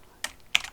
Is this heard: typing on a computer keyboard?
yes